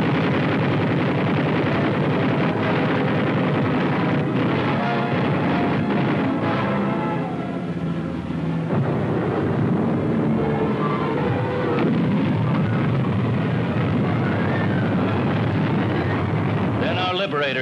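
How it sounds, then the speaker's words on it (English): Medium bombers attack a Japanese airdrome at Munda during World War II, a dense roar of engines and explosive blasts rumbling throughout under a narrator's voice. "jungle-hopping medium bombers went after the Jap airdrome and its defenses"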